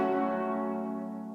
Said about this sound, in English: Here in the second half I also added this harp.